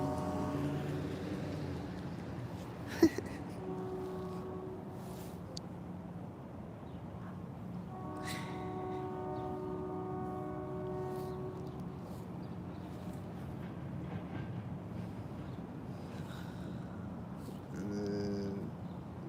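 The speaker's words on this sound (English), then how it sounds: "Yeah, I hear the train horn again." A distant horn sounds in long, steady harmonic blasts, faint and spaced apart, over low background rumble with a sharp click early on.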